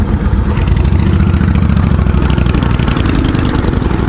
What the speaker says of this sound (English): My cruiser bike of choice is my KLR.